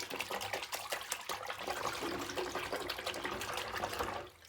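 Hand swirling wool wash through a basin of water to work up suds before soaking socks, a steady close sloshing and splashing with no talk.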